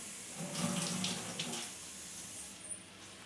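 Water running off soaked rice being drained in a home kitchen while making veg pulao, a steady close splashing trickle at moderate level with no voices.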